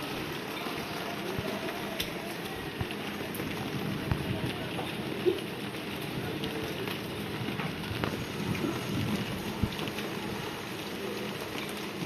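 Steady rain patters on a surface, a dense even hiss with soft scattered drops throughout, no voices.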